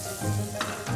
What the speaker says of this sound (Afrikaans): Dan vat ons broodstukke en gooi dit daarin.